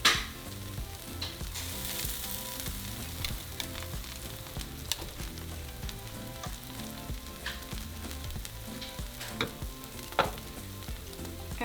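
Birria meat laid over Oaxaca cheese on a hot griddle gives a steady sizzle with occasional sharp crackles and pops, close and continuous, with a faint background hum and no talking.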